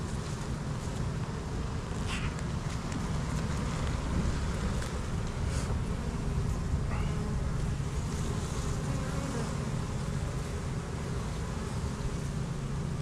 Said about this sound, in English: A lot of bees.